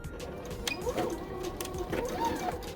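A sewing machine stitches around the edge of a small fabric door bow, a faint, quick mechanical whirring with light ticking and a few short bursts.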